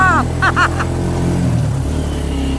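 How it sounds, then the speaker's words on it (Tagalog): A tricycle's engine labors loudly and steadily while climbing a steep mountain road, its low drone holding throughout, with brief voices over it. "Hirap ang tricycle hirap."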